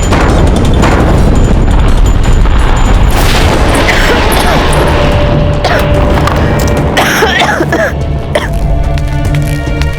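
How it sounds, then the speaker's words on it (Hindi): Heavy cannon-fire booms and crashing blasts rumble loudly one after another, with cracking debris and some vocal sounds mixed in among the explosions. "और ये तोपों के धमाके।"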